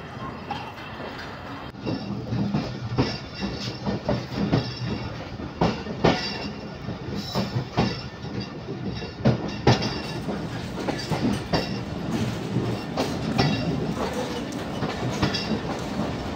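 The Thal Express train rolls steadily along the rails near Kundian Junction with rhythmic clattering and periodic clanks, a continuous rumble throughout.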